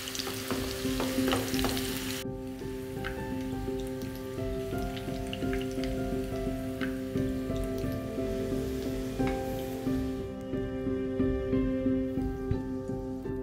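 Potatoes fry in hot oil with a steady close crackle and sizzle, like rain on a surface, while a sustained tonal hum runs underneath throughout.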